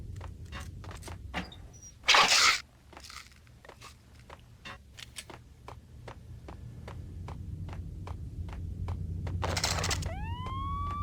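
Police sirens in the Max Payne video game, a rising wail swelling in near the end over a low rumbling backdrop, after scattered clicks and a short burst of noise, with no talk.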